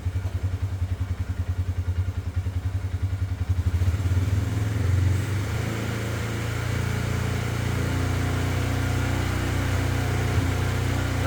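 A Polaris 570 EFI engine idles close by with a rough, uneven beat, its steady low pulsing thrum interrupted by an audible miss before settling into a denser, louder idle partway through; no voices.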